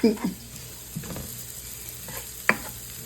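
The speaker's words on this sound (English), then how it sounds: "let these fry a little bit" Onions frying in butter for a homemade jambalaya: a soft, steady sizzle with occasional stirring clacks and scrapes, close by.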